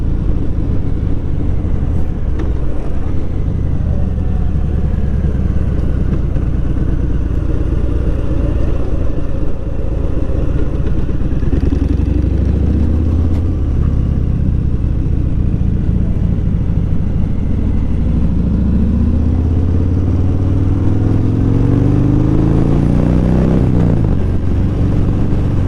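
A Harley motorcycle rumbles loudly and continuously on a ride, its deep engine drone rising and falling in pitch with speed changes and throttle, close and dominant throughout with no voices.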